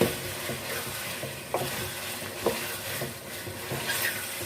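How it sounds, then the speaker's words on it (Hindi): Chicken for karahi sizzles in a pan as salt, turmeric and crushed red chilli are mixed in. A steady frying hiss runs throughout, broken by occasional scraping stirs and clinks, close and moderately loud, with no talking. "हम नमक मिर्च को मिक्स कर लेते हैं चिकन में"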